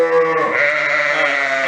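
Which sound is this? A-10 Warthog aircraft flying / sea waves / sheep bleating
sheep bleating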